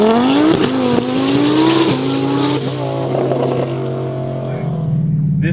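A 1400HP Audi R8 roars through a hard 0-60 launch, its engine note climbing in loud, rising harmonic sweeps with quick drops at each gear change before fading as the car pulls away, with people talking faintly.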